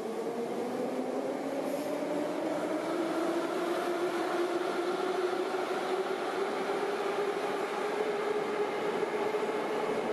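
A Moscow metro train rumbles along steadily, its motor whine slowly rising in pitch beneath a constant rushing roar inside the carriage.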